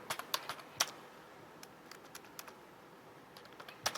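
Quiet, irregular clicks from a computer keyboard as a command is typed, a few sparse keystrokes spaced across the clip with soft pauses between them, close and faint.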